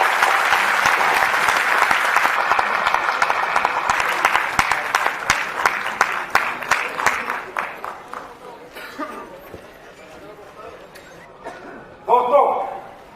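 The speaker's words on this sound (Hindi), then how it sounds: "एक बार जोरदार तालियां हो जाए लोगों को" An audience at a gathering bursts into loud, dense applause that gradually thins into scattered claps and fades, followed by a brief renewed burst at the end.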